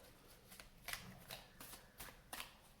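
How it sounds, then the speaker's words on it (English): Tarot cards being shuffled and drawn from a deck, soft riffling bursts at roughly regular intervals, faint and close, with no one speaking. "let's draw some cards"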